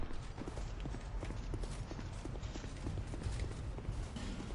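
Horses gallop in the video game Dark Souls 2, giving a steady, rapid run of hoofbeats over a dense background wash, with no talking.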